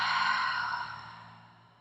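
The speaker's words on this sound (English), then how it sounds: "Open the mouth and exhale." A single long breath exhaled through an open mouth during a yoga session, a close, airy whoosh that fades out gradually over nearly two seconds.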